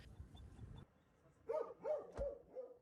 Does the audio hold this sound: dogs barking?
yes